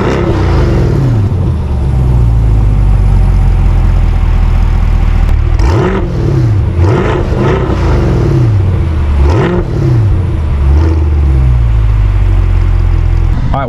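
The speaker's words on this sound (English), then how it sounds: "put some clips in here of the car revving in quiet mode and then track mode" A 2020 Corvette C8 Z51 engine idles with a loud, steady rumble, then blips through several sharp revs that rise and fall back, close by, with no talking.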